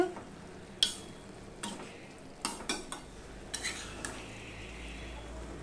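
Vegetables for a Bengali niramish labra are stirred in a pan on low to medium heat, with a soft simmering sizzle and several distinct spoon scrapes and clinks against the pan, close and quiet, no talking.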